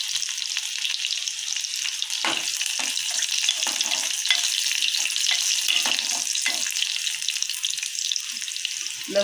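Seven or eight crushed garlic cloves frying in hot oil give a loud, continuous close-up sizzle with scattered spits and pops, and no one speaks.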